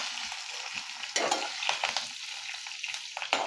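Chopped chillies, cumin and white sesame seeds roast in a pan with a steady close sizzle, broken by several sharp scraping stirs of a spoon; no voices.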